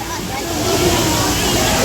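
Water rushes and splashes steadily at a beach resort, a loud continuous wash that builds slightly and stays close throughout.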